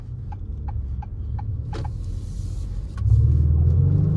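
A 2023 Acura MDX Type S pulls away in first gear, a low engine rumble that swells into a louder, heavier roar toward the end, preceded by faint clicking ticks inside the cabin.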